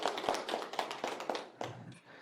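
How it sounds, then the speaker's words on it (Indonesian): A small group of participants at a facilitator-led training session claps briefly, a quick flurry of hand claps that thins out within a couple of seconds, fairly close and modest in volume. "Tepuk tangan dulu dong buat kita semua."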